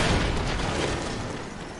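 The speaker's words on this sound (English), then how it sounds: "I spray, you bring the roof down." Roof caving in inside the video game DmC: Definitive Edition, a loud rumbling crash with broad debris noise that starts strong and slowly tails off over a couple of seconds.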